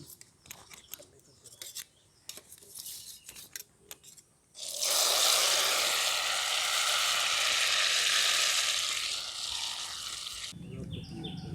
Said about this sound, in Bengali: এটাকেও আমি ভেজে নিচ্ছি